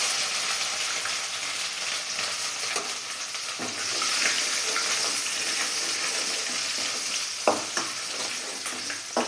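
Ginger, garlic and cinnamon fry in a pan, a steady close sizzle broken by scraping stirs and a few sharp knocks of the spoon near the end.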